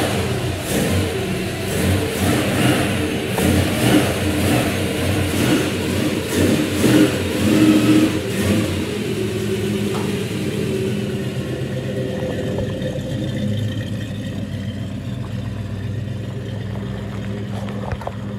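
A 1966 Ford Mustang on its first drive in 23 years revs and accelerates up close with uneven surging engine bursts, then settles into a lower, steadier rumble as it moves along.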